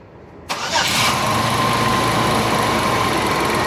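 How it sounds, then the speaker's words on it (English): A car engine cranks and fires about half a second in, revs briefly, then settles into a steady, loud, close idle that continues alone. "now all we have to do is just start up the car"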